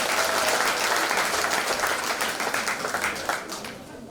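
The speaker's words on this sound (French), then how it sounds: "vous applaudissiez pour vous-même." An audience at an International Women's Day celebration in a renovated grandstand applauds, dense clapping that stays steady and then thins out toward the end.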